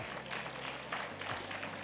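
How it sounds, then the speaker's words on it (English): A conference audience at the Jamaica Stock Exchange regional event applauds its sponsors, with a steady, even wash of clapping from many hands that lasts throughout and stays at moderate loudness. "Another round of applause,"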